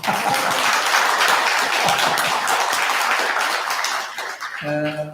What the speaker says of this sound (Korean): 크게 앞으로 장래 잘 되라고 박수 한번 칠까요?